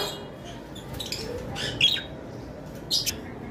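Caged lovebirds and budgerigars chirp in short, bright bursts over a steady hum of background birdsong, with two louder calls standing out near the middle and end.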